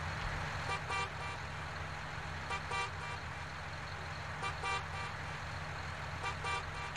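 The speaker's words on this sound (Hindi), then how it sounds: "तो ये हो गया भाई इसका हॉर्न" A John Deere 5085M tractor horn in Farming Simulator 19 gives short, repeated toots, mostly in pairs, spaced every couple of seconds over a steady low engine drone.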